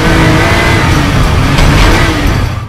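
A 1962-style car accelerates hard past 100 miles per hour, its engine producing a loud, steady roaring rush with no voices.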